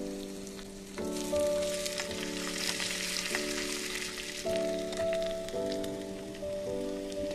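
Curry leaves and green chilies sizzle and spit in hot oil, a close, steady frying crackle under a soft sustained musical drone.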